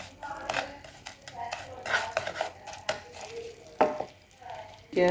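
Sugar melts in a pan for pasta payasam while a metal spoon stirs and scrapes against it in irregular clattering bursts over a soft sizzle, close and fairly loud.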